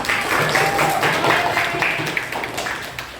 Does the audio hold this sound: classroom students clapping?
yes